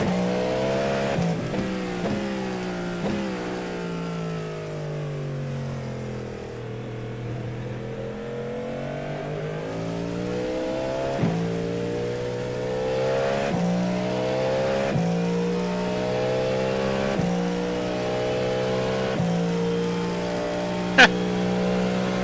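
Cadillac GTP race car engine in the iRacing game, a loud continuous engine drone that climbs and falls in pitch through repeated upshifts and downshifts across the stretch, with an occasional sharp tick near the end.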